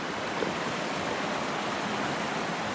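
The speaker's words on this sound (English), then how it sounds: "the water is very loud" Loud, steady rush of stream water beside a wilderness campsite in Dolly Sods Wilderness, a dense broadband roar filling the whole clip with no voices over it.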